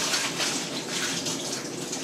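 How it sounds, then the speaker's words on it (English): A little water is run onto bread in a home kitchen while a crustless quiche is prepared: a short, steady, trickling hiss with no talking. "you just give it a little bit of water like this."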